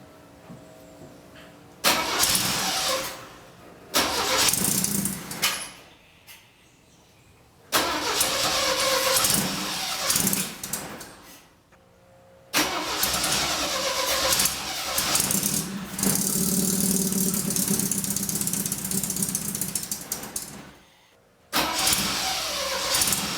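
Saab Sonett engine cranked and started several times after a carburetor idle mixture adjustment, catching, revving and dying between attempts, then settling into a rough idle with some rattle, close and loud with no talking.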